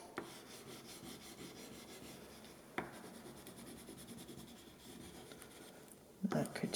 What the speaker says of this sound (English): because I'm working on a wet surface, the watercolor crayon will release and I can draw with that